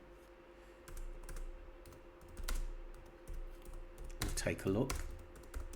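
A message being typed on a computer keyboard: scattered, fairly quick key clicks close by, with someone talking briefly over the later keystrokes.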